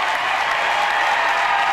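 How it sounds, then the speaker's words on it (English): Crowd cheering and applauding at a college basketball game, an NCAA tournament first-round contest at St. Mary's College of Maryland: a dense, steady roar of clapping and shouting that fills the whole stretch with no break. "Crowd on their feet now"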